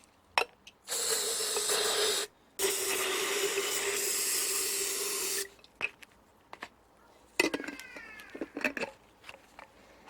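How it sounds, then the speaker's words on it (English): Carburetor cleaner sprayed onto Suzuki carburettor parts in two sustained, close hissing bursts, followed by scattered clicks and drips. "Let's get some of this carburetor cleaner inside"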